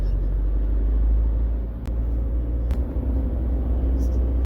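Inside a car heading toward Medina in Saudi Arabia, a steady low road and engine rumble drones throughout, with a few brief bumps and a faint clicking mixed into the constant cabin noise.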